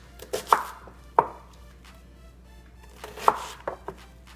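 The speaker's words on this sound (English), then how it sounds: "after I wash the onions, just cut it in big squares" Knife chopping onions into big square pieces on a cutting board: a few sharp, distinct chops spaced irregularly, close and fairly clear, with no talking.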